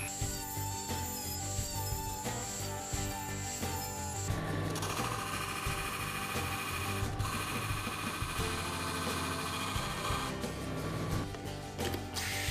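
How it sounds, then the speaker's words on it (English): A Dremel rotary tool cutting a notch into a homemade folding knife blade, a high whine with grinding buzz that shifts in pitch and pressure as the bit bites into the metal, close and continuous. "Using a Dremel, I make a notch allowing us to release the blade more easily"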